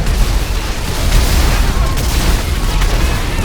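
Loud, dense bursts of gunfire in the video game GTA V, continuous rapid shots and booms filling the whole stretch, with an excited voice shouting over them.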